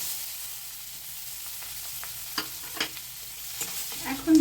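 A medium onion frying in oil with asafoetida for a cabbage and fish-head curry, a steady sizzle with a few scraping stir strokes and clinks near the end.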